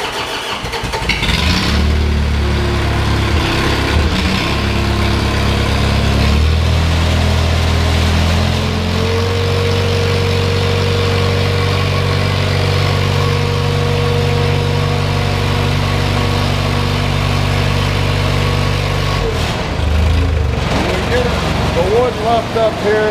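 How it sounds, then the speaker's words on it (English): The glow-plug diesel engine of a homemade Splitzilla log splitter cranks, catches and runs with a loud, steady, close mechanical drone, with a few changes in pitch as it settles. "I'm gonna fire it up and I'm gonna show you a little bit how it works."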